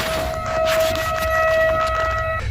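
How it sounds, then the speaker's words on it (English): A steady high-pitched siren tone holds continuously for over two seconds, with layered harmonics over faint background noise. "the sirens sound quite high-pitched, almost like a car horn beeping long and restlessly."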